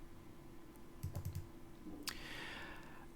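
A few quick computer keyboard key presses sound as soft, close clicks in a short cluster, followed by a brief louder clack, over a quiet room hum.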